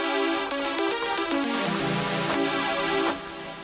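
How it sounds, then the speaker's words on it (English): A dark, suspenseful diminished chord within a minor scale, sounding as a dense electronic synth texture with sustained tones and a few shifting notes, loud and steady before dropping off near the end. "which is a diminished chord. This is kind of a suspenseful tone. It's also very dark, and it sounds like this."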